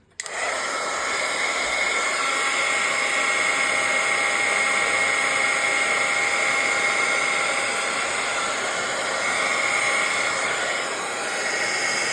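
A hair dryer blows steadily to dry a piece of craft work, a loud, even whine that kicks on abruptly and runs nonstop with no talking.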